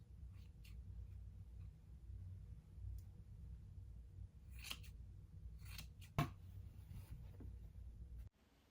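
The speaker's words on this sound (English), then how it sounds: "we're just gonna snip off all of this extra so that it sews together really nicely" Scissors trimming excess quilted fabric for a quilted fabric bin, with a few sharp, separate snips over a quiet room hum and a louder cut near the end.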